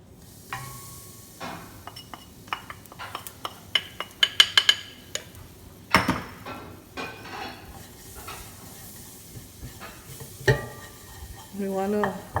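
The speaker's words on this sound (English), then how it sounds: "So we're going to add some oil to our pot, and we're going to fry our curry powder." Curry powder fries in oil in a pot, giving a soft sizzle under repeated spoon scrapes and sharp metallic clinks against the pot, loudest in a quick cluster partway through.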